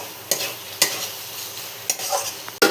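Ghee and garam masala being stirred into a banana flower curry in a pan, with several sharp scrapes of the spoon against the pan over a gentle sizzle.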